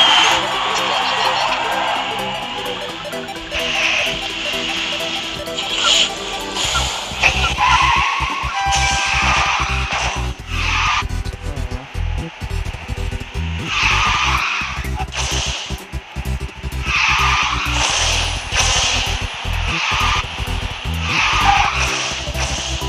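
Race cars in the mobile racing game Garena Speed Drifters, sliding with sustained tire skids and engine noise over an upbeat music track, loud and continuous with brief gaps, while a person talks intermittently.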